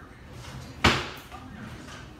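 A kitchen drawer is pulled open and shut with one sharp wooden thud and brief rattle in the middle, set against quiet room tone and soft background voices.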